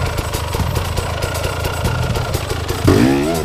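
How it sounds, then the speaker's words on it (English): Enduro motorcycle crawling over slippery wet rocks, its engine chugging and clattering at low revs with bursts of throttle and wheel spin, then a louder rising rev near the end; close and continuous. "Standing up, paddling with one foot, the other weights the bike, keeping just enough speed to avoid getting stuck."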